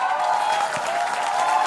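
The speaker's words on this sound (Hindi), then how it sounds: "तालियां बजाइए।" Crowd applause in a TV studio debate audience about Kashmir policy, a dense continuous clatter of many hands clapping at moderate loudness throughout.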